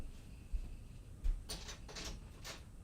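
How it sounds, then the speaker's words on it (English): A door being opened indoors near a wood fire: a couple of soft low thumps followed by a few scraping, rattling movements, faint and close. "I'm opening the door."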